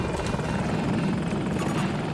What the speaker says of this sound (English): Oh, it's a chopper.